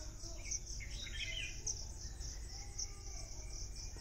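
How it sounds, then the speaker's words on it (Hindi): An Asian koel calls at dawn amid a steady high insect chirring, with other birds chirping faintly in the background. "कोयल की आवाज़ आ रही"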